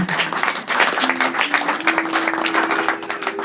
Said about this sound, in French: Est-ce qu'on peut applaudir pour la gloire de Dieu?